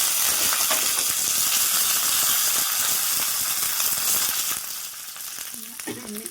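Curry leaves with mustard seeds crackle and sizzle loudly in hot coconut oil for a Kerala-style fish curry, a dense close frying hiss that eases slightly toward the end with a few faint clinks.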